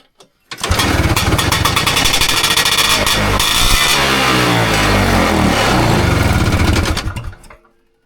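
A Lotus Elan engine, just fired up and short of fuel, runs loud and close with a rough, uneven beat, rising and settling for several seconds before cutting out.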